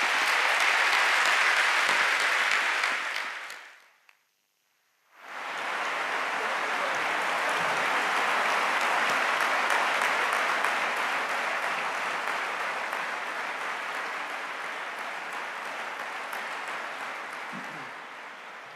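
A large audience at an evening lecture applauds two speakers with loud, dense clapping. The clapping breaks off into a brief gap of near silence, then resumes and continues steadily, gradually easing off.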